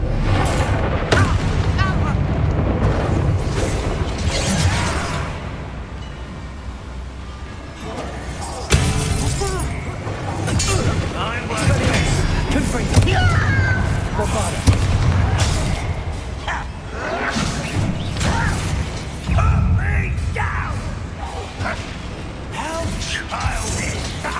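Booming blast of the Bombarda spell in Hogwarts Legacy, loud explosions and shattering crashes amid mechanical clatter and game combat, with a voice speaking over the battle.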